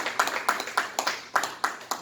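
Scattered hands clapping at a Korean cultural research institute's launch event and seminar as a guest is introduced, a thin, uneven patter of only a few people, fairly quiet and unaccompanied by voices.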